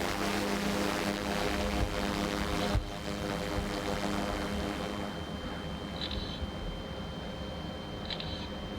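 An aircraft passes overhead, a steady broadband propeller drone that is loud at first and eases slightly in level, with no talk.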